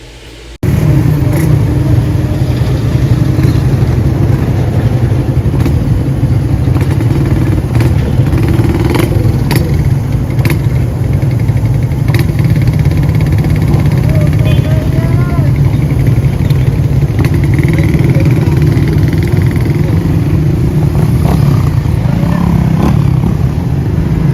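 Several Suzuki Raider motorcycles pulling away together on a group ride to a Suzuki parade, a steady loud engine drone with rising revs and passing traffic throughout, no clear talk.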